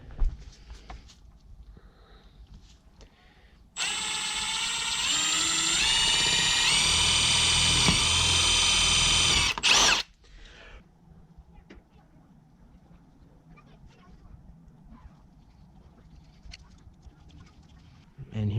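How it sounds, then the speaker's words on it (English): A power drill bores out a small hole in a square-body Suburban barn door, a loud steady whine lasting about six seconds that stops abruptly, with quieter handling noises before and after. "Once we drill the hole out."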